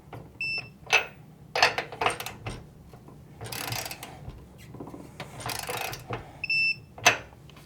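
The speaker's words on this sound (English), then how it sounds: "You should hear a beep." A torque tool tightening nuts on a TRA Snow & Sun C21Z rooftop snow fence gives short, high electronic beeps at the start and end. Ratcheting, scraping and clanking of metal hardware come in between.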